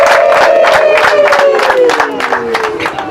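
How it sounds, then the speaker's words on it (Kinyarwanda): Loud applause and high, trilling ululation erupt together at a Rwandan wedding, a dense crowd sound with wavering voices sliding downward over steady clapping. "amashyi n'impundu abatanga mu ndu"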